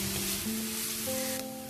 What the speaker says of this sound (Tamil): இந்த ஆனியன் வந்து நல்லா ப்ரௌனாக வர அளவுக்கு நம்ம இதை வதக்கி எடுத்துக்கலாம்